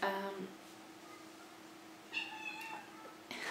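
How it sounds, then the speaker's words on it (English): A kitten meows several times, a short cry at the start and then two longer, higher calls later, fairly close and quiet indoors, with a faint steady hum underneath. "that's one of our kittens"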